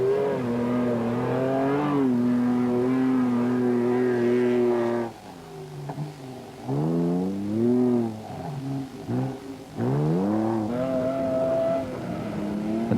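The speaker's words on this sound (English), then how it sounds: "V6 engine certainly sounding good as he gives it the gun over these big sand dunes" A Citroen ZX V6 rally raid car at the 1994 Tunisia Rally Raid roars over big sand dunes, its engine held at a steady high drone, then dipping and surging through repeated revs, loud and close.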